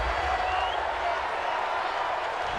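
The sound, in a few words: stadium crowd reacting with displeasure to a penalty call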